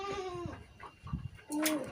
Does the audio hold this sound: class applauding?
no